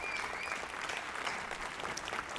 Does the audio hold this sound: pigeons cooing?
no